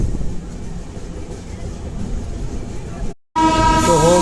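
The Arunachal AC Superfast Express rushes through a station without stopping, making a loud, steady rumble of passing coaches. It breaks off briefly, then a strong tonal horn or whistle sounds close by.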